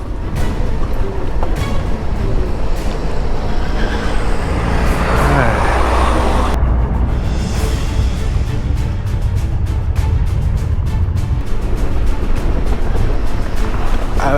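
A truck drives past on a foggy mountain road by the Piva canyon, a loud broadband rumble that swells mid-passage over continuous road and wind noise, with voices faintly underneath.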